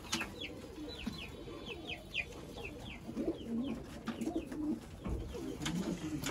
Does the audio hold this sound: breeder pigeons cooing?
yes